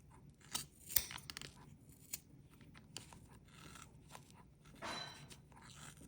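Scissors snip through the ends of crochet yarn on a Christmas elf hat, giving a few sharp, close cuts and crunchy clicks spread out over several quiet seconds.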